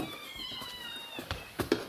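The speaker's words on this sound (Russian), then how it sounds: "хорошие черненькие мои кошки" Several black cats meow in a small group, a long drawn-out meow followed by short sharp cries, close and moderately loud, with no talking.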